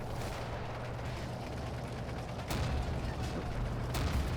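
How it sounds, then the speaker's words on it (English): Mortar fire in the desert war game Combat Mission: Afrika Korps, with a steady rumbling battle bed and a few sharper distant bursts and thuds near the end, moderately loud with no voices. "It looks like the mortars are being pretty effective here."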